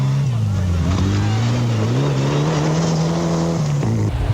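A Mitsubishi Evo 6 rally car on a loose gravel stage in the Wairarapa revs hard and close, its engine pitch climbing and shifting through gears with a brief lift near the end, loud and continuous.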